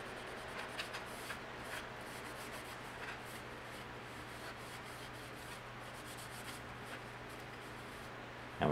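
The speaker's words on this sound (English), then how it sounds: "I'll use my paper towel here to get this all dried off again." Paper towel rubs and wipes across a 1/350 scale Polar Lights Enterprise Refit plastic model kit, a soft continuous papery scrubbing heard close and quiet.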